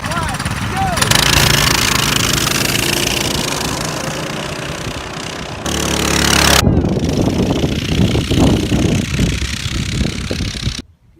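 A torque converter mini bike engine runs loud and close, buzzing steadily, then revs higher before cutting off near the end.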